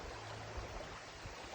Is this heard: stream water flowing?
yes